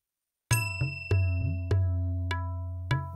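Bell from a music accompaniment app set to the 16-beat Tintal cycle, struck in clear, evenly spaced dings about every 0.6 seconds over a steady low bass drone, bright and close with no talking.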